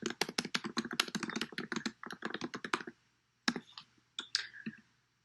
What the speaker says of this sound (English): And I can start typing my message.